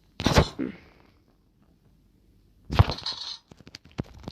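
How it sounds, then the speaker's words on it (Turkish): A gun fires in the horror video game Granny: two sharp, loud shots about two and a half seconds apart. Quieter clicks and small knocks follow the second shot. "Neyse bu silahla ateş edebiliyor en azından."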